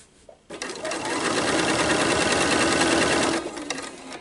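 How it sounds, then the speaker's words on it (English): A sewing machine stitches around the edge of a fabric placemat, starting after a short pause and running in one loud, steady burst before slowing to a stop. "you'll sew in this manner all the way around the placemat"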